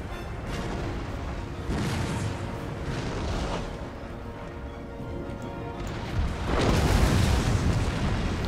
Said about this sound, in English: Let's get all my artillery to focus onto this last squad.